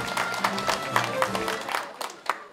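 Clapping from a year-end gathering of a regional hometown association in Incheon as an arriving guest is welcomed, a sparse run of claps with people talking beneath it.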